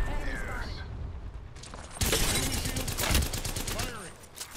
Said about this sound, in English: I love how I shoot as I say that.